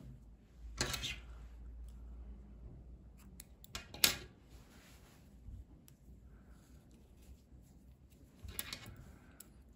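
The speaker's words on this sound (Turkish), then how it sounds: "ipliği kesiyorum" Scissors snip through crochet yarn at the end of a baby vest, a few crisp cuts with one louder snap midway, close and alone in a quiet room.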